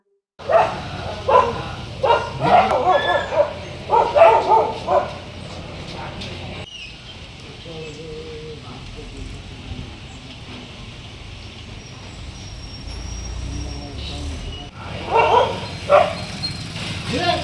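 Stray dogs on a village street bark in repeated loud bursts near the start and again at the end, with a quieter stretch of background noise and faint voices between them.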